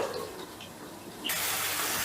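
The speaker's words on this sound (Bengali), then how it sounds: "এবারে আমি দিয়ে দেবো গ্রেভির জন্য জল।" Water pours from a container into a pan of chicken gravy cooked with roasted green mango, a soft trickle that swells abruptly into a steady, louder gush for the last stretch.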